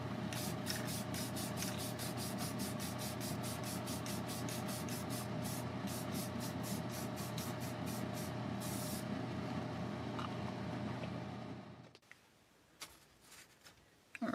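An aerosol can of Krylon Pebble satin spray paint hisses steadily onto a model kit's foundation area, a close, continuous spray that stops abruptly near the end, leaving near silence.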